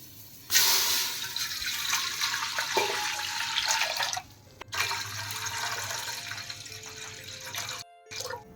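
Water gushes into a heavy-bottomed pot in a loud, rushing pour of about four seconds, pauses briefly, then pours again more steadily before cutting off, with no voices.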